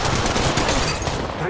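A short, loud stretch of rapid automatic gunfire in Apex Legends Mobile rattles on continuously, with close, evenly spaced shots filling the whole moment.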